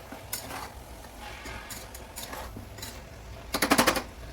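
Cooked vegetables with onions and mint being mixed for pulao, giving scattered scrapes and clinks of a spoon against the pot, ending in a quick loud rattling burst near the close.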